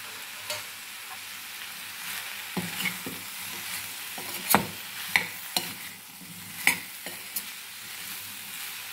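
Diced elephant foot yam (suran) sautés in a pan with a soft continuous sizzle, broken by irregular scraping and clinking strokes of a spoon stirring the vegetable, heard up close without speech.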